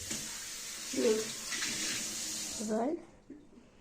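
A glass used to measure yogurt for a simple cake is rinsed under a running kitchen tap, a steady hiss of water that cuts off near the end while someone speaks over it.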